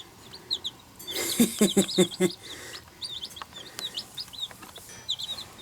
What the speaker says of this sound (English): So these chicks are 2 days old, been traveling from Iowa